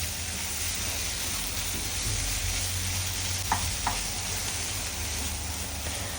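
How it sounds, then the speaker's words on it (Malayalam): Paneer bhurji with coriander leaves sizzles steadily in a pan, a continuous frying hiss with a couple of soft stirring scrapes partway through and no talking. "എന്നിട്ട് നന്നായിട്ട് സോട്ട് ചെയ്യുക."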